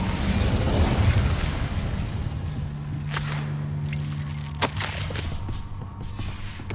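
An Incendio fire spell cast in Hogwarts Legacy on PS5 bursts out with a whooshing flare, followed by a sustained hum and a couple of sharp cracks as the flames settle, with no talk over it.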